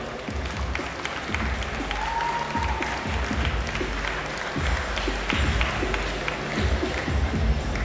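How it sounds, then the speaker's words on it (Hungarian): An audience at a fitness show applauds, with steady, dense clapping that runs continuously, loud and even, across the whole stretch. "Egy hatalmas tapsokat kérek a közönségtől."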